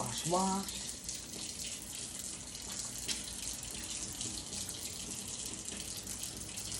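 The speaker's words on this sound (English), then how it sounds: "So we're washing our hands out." Hands being washed under a running kitchen tap while making homemade bread, a steady broadband rush of water from start to finish, with a brief voice near the beginning.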